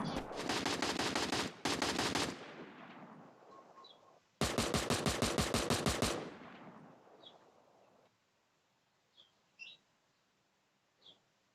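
Rapid automatic gunfire in a video game, two long bursts of fast repeated shots with a short gap, then fading quiet with a few faint chirps at the end.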